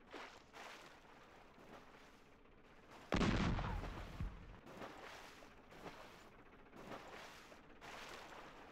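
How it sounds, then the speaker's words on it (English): Gunfire in a Battlefield video game, with scattered distant shots and one loud close blast followed by a rumbling boom, then further faint shots over a low background. "I'm getting shot again by somebody."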